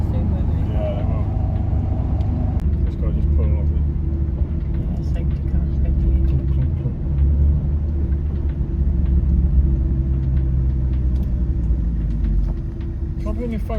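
A safety car drives around the Castle Combe race circuit, its engine a low, steady rumble beneath near-continuous conversation between nearby spectators.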